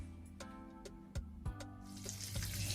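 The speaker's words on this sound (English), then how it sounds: "I'm going to start washing my potato because I'm going to do it like wedges" Potatoes for wedges are rinsed under a running kitchen tap: a few light clinks and knocks in the sink, then a steady rush of water builds and continues close by, with no talking.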